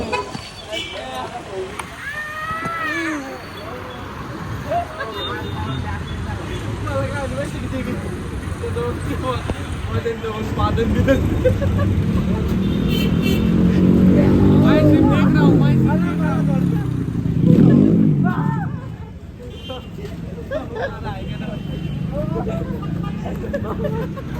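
Car passing on a road amid loud crowd babble and talk, with traffic rumble swelling in the middle and a brief horn-like toot.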